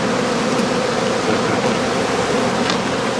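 Honeybees from a skep colony hum in a dense, steady drone, loud and close with no pauses or voices over the buzzing swarm.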